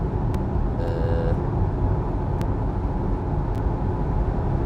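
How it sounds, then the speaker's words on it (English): Steady broadband road and wind roar inside a Hyundai Ioniq 5 driving into a headwind, constant and enveloping with a few faint clicks, no talking. "Ioniq 5 is in opinion noisier than any of Q4."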